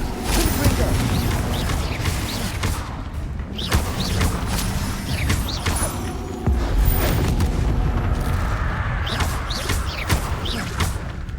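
Blasting-spell explosions in the video game Hogwarts Legacy, fired during a chaotic fight, give a rapid series of loud booms and crashes with scattered impacts and effects throughout, while a voice talks over the action.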